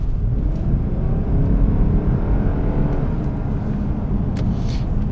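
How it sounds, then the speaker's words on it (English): A 2007 Lexus GS 450h hybrid with a CVT gearbox accelerates at full throttle, a steady loud low rumble and whir of engine and road noise heard from inside the cabin, continuous without talk. "I'm gonna floor it one more time so you're gonna hear it better"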